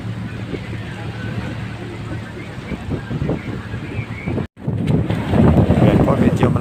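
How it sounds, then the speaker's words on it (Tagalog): Strong wind buffets the microphone on a fishing boat at night near Scarborough Shoal in rough seas, a rough roaring rush with engine and water noise beneath, briefly cutting out midway. "medyo malakas ang hangin at maalon yung pag-uwi namin sa gabi."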